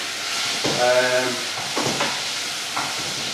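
Carrot sticks and celery are stir-fried in a pan with a soft continuous sizzle, broken by a few scraping strokes of a utensil against the pan, near and moderate in level.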